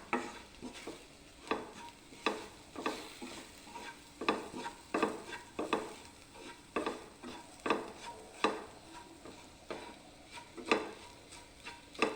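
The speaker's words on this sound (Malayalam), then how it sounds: "അത് ഇട്ട് നല്ലതുപോലെ ഒന്ന് ഇളക്കാം" A chilli mixture for chickpea curry being stirred in a pan, rhythmic scraping strokes about once a second over a light sizzle, close and moderately quiet, with no speech.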